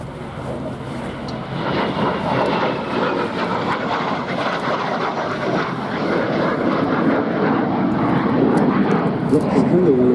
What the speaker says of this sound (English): Lots of very elegant views during the smooth display of the Meteor T7, which was built in August 1949.